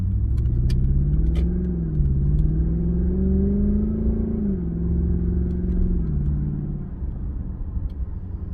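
A Lexus LS460 engine with mufflers removed growls deeply and steadily with a few rising and falling revs, heard from inside the car, fairly loud and smooth.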